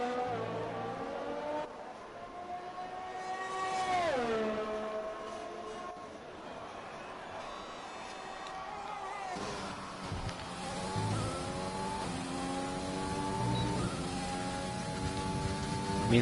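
Open-wheel Formula 1 car in the F1 2020 racing game on a hot lap at the Australia circuit, engine whining steadily with rising and falling pitch through gear changes and corners, sustained and fairly prominent throughout.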